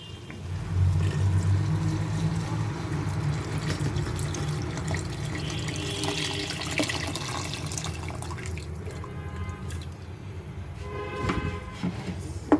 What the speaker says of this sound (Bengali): পানিটা আমি এখন মাংসে দিয়ে দিব